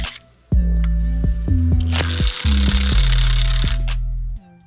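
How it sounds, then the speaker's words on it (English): An impact wrench tightens a new bolt on a crash guard with loud, close hammering bursts that start and stop several times, the last burst ringing on steadily before cutting off. "I'm going to use this impact wrench to tighten it thoroughly"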